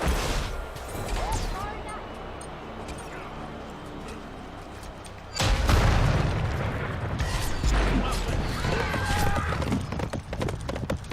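Horse hooves galloping in the video game Smite, rhythmic clip-clop beats layered with game combat booms and effects, and a player talking over the action.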